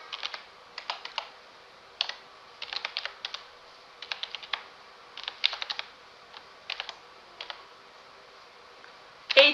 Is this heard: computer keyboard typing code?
yes